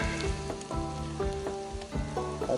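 Cooking oil in a pan starting to bubble and sizzle, a steady crackling hiss with small popping bursts, close and continuous, with a tonal hum running underneath.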